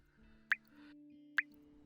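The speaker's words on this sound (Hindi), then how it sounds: "कनिका जल्दी से छत से टपक रहे पानी के नीचे बर्तन लगा देती है" Two distinct water drops fall from a leaking roof into a metal pot during rain, sharp and close with a pause between them, over a faint low hum.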